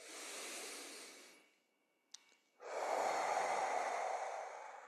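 Slow, deep breathing during a guided breathing exercise: a long airy exhale, a short pause with a small click, then a fuller, louder breath, close and soft with no talk.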